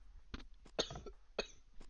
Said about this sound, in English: Coughing coming.